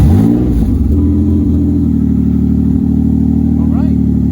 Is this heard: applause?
no